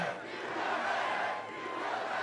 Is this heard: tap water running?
no